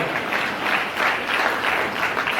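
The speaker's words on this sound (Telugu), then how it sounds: "గట్టిగా చప్పట్లు కొట్టండి" Audience clapping at a Telugu religious talk, a dense, steady roar of many hands applauding throughout with no speech.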